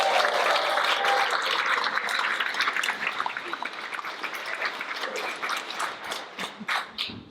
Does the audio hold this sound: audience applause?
yes